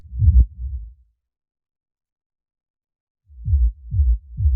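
Deep, soft techno kick drum thumps, a short pair at first, then after a silence a steady run of booming low hits.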